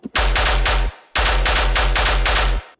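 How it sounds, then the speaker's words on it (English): A synthesized tear-out gun bass made in Serum, heavily distorted with a low-cut sub layered beneath: two loud, dense bursts, each a rapid stuttering run of gritty hits, separated by a brief silence. "And then I'm just distorting it together a bit, and that creates our final gun here."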